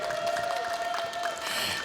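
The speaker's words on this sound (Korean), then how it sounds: "박수 한번 쳐주세요." Audience applause at an autism talks event, a dense steady clatter of many hands clapping that fills the hall throughout, with a faint sustained tone running beneath it.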